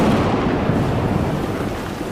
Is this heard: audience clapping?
no